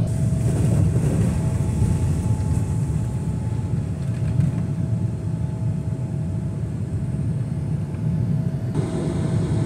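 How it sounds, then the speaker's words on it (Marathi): An airliner rolls down the runway accelerating for takeoff, a steady deep engine roar with a faint whine heard from inside the cabin, continuous and even throughout with no talking. "विमान आता धावपट्टीवर आलाय आणि हळूहळू चांगला वेग घेईल आणि पटकन हवेत उडेल."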